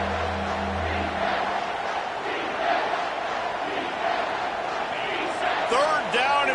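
Stadium crowd roaring in the NCAA 25 college football video game, a dense sustained wall of cheering and yelling that holds steady throughout, with a commentator talking over it and a sharper swell of noise near the end.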